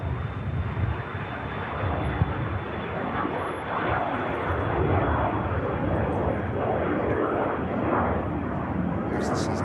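An aircraft taking off from an airport, a loud, sustained roar of jet engines filling the whole stretch, broad and steady with slight swells, heard from the ground at moderate distance.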